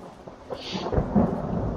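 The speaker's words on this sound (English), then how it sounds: "Nice thunder effects and everything." Thunder weather effect in the video game Fallout 3, a low rolling rumble with a rain-like hiss, steady and moderately loud throughout with no talking.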